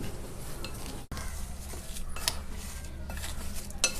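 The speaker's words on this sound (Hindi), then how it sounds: "अब हम इसको अच्छी तरह मिला लेते हैं" Homemade pulao masala spice powder being mixed in a bowl, with a continuous dry rustling and scraping broken by a brief pause and a few light metallic clinks, close up.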